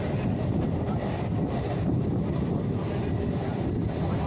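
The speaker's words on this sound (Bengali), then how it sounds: "ট্রেন এখন এসে পৌঁছে গেল বাউরিয়া স্টেশন" Howrah–Panskura local train pulling into Bauria station, a loud steady rumble of wheels and carriage noise with wind buffeting throughout, heard close from on board.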